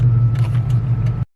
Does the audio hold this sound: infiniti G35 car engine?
yes